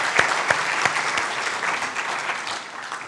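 An audience at a women's climate leadership event claps, a steady patter of applause fading slightly over a few seconds.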